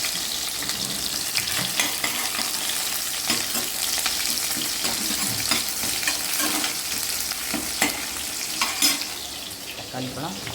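Shallots, dried red chilies, ginger, garlic and tomato fry and sizzle in a pan for tomato rice, with a steady loud crackle broken by repeated stirring scrapes and clinks, and no voice.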